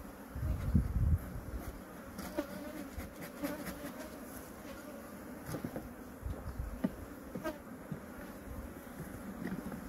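Dense, continuous buzzing of many honeybees close by, with a few soft low thumps and knocks mixed in.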